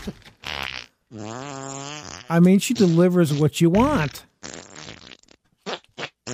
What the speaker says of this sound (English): Time for me to fart 17 times.